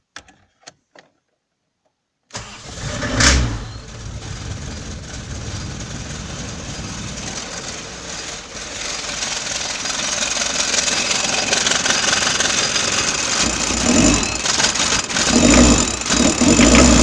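After a few faint clicks and silence, a freshly rebuilt Renault 21 TurboD diesel engine cranks and fires for its first start, then settles into a steady, close idle that gradually grows a little louder.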